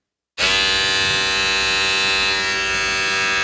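Wahl Vanish electric shaver switching on abruptly after a moment of silence, then running with a steady, close, even buzz that holds without change.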